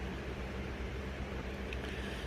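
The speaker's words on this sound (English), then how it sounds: "Sorry that fan's on. I know that's probably pretty loud." An electric fan runs indoors, giving off a faint, steady broadband whoosh with a low hum underneath, unchanging throughout.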